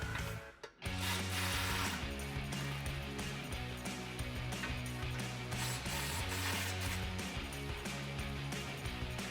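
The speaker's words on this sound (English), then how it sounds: "grab your 16mm socket and disconnect these two bolts" Rapid ratchet clicking from a 16mm socket wrench loosening exhaust flange bolts on a RAM 1500 pickup, steady and close over a constant hum, with only a brief pause near the start.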